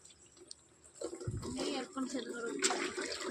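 Water running into a container in a home, gurgling and splashing at low level with a faint tap flow, while people talk over it throughout.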